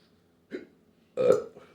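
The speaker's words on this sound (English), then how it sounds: "There's a hiccup." Two short throaty hiccup-like spasms after eating a spicy Slammer pepper, a small catch followed by a louder, fuller belch-like gulp, close and fairly quiet, with no speech.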